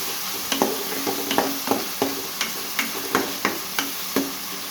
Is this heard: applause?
no